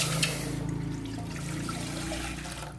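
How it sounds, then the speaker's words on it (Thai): Fish sauce pours steadily into a pot in a continuous trickling stream, close and fairly loud, with no voices. "ตั้งหม้อนะคะ แล้วก็ใส่น้ำปลาลงไปค่ะ"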